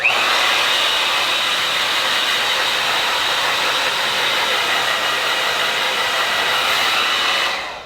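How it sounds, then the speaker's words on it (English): A hair dryer blows continuously at close range, a loud, even whooshing roar that holds steady throughout before cutting off at the end. "do not point the blow dryer at your hair"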